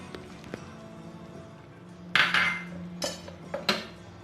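Metal spoon stirring egg curry with cashews and garam masala in a pan, giving several bright clinks and scrapes in quick bursts, fairly close, after a quiet stretch with a faint low hum.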